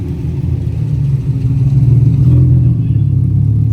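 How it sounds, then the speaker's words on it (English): A Nissan 370Z running on a dyno: a loud, deep engine drone that builds steadily in a short run, close by, with voices faintly underneath. "on the dyno here is a 370Z"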